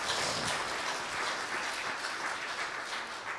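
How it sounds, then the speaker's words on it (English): An audience gives a round of applause during a church testimonial interview, with steady, even clapping from many hands that sounds fairly close and fills the whole stretch. "Yes, a round of applause is appropriate."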